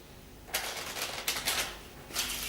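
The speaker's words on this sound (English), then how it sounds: "Give the cards a little shuffle." A deck of playing cards is shuffled during a close-up magic trick, giving three short, soft riffling bursts at close range in a quiet room.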